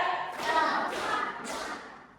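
Classroom students clapping in unison on a count of three, three short group claps in a steady rhythm, quiet and a little distant.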